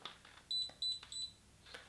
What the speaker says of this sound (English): So three beeps and now it's on.